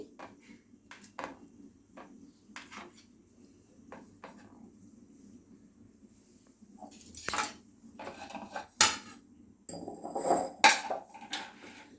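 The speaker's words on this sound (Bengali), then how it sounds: "পনিরটা এরকম কিউবস করে কেটে নিচ্ছি।" A knife slicing a 400-gram block of paneer into cubes on a board gives sparse, quiet taps at first, then louder, busier clatter and knocks toward the end, with no talking.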